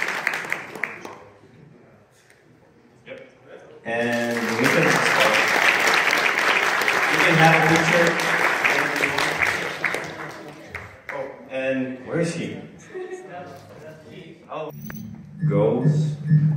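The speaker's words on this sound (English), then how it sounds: "Applause for this kid." Applause from the audience at a hackathon award ceremony, bursting in loudly and filling several seconds with dense clapping before fading, with a presenter talking before and after it.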